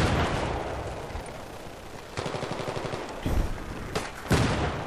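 Battlefield 3 combat on the Seine Crossing map, where mortars are in use, produces loud, dense bursts of gunfire and heavy blasts that roll on without a break and swell in several sharp surges.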